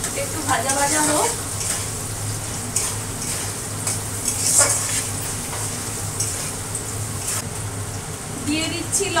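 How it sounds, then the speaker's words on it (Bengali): Eggplant and potatoes fry in a pan with salt and turmeric added, a steady close sizzle with occasional spatula scrapes and stirring, while a person talks over it. "একটু ভাজা ভাজা হোক।"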